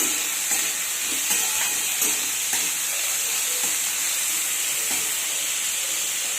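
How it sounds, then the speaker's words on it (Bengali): Vegetables frying in a pan for Maggi noodles, stirred with a spatula: a steady close sizzle with clicking scrapes and knocks of the utensil at irregular moments throughout. "সবজিগুলোকে দিয়ে দিয়েছি এবার আমি নাড়া দিয়ে দেবো"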